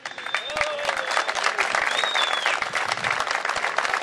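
Crowd of supporters clapping at a football club's league championship presentation and celebration, a dense steady burst of applause with a few whistles and cheers over it.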